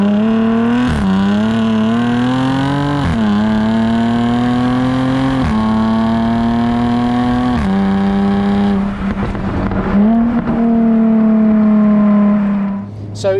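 A 2014 Jaguar F-Type sports car engine revs repeatedly, each rising pull followed by a sharp drop on the shift, loud and close with a rich throaty tone, ending in a brief fade.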